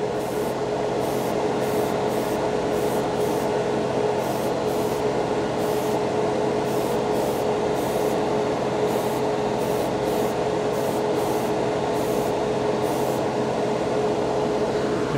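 An airbrush sprays Hobby Mio gray paint in a steady, continuous hiss with an even airflow hum, close and unbroken throughout.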